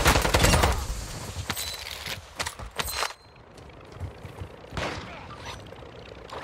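Gunfire in the video game MW2 DMZ rattles out in loud bursts at the start, then comes in scattered sharp shots and short volleys, with faint distant fire and a low background rumble between.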